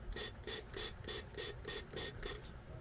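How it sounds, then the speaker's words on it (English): A handheld spray bottle mists water onto a gel printing plate in about eight quick, evenly spaced hissing bursts, close and fairly quiet, with no talking. "I'm going to see if I can spray some water in there."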